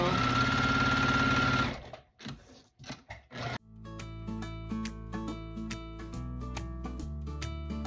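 A sewing machine runs at about half its usual speed, stitching a quilt block with a steady, close buzz for under two seconds before stopping; music plays afterward.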